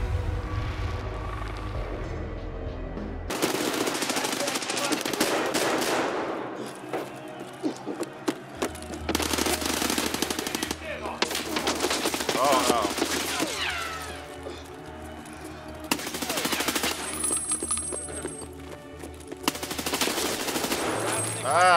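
Automatic gunfire in the Escape from Tarkov shooter game comes in repeated loud, sharp bursts and sustained volleys across about twenty seconds, with short pauses between the strings of shots.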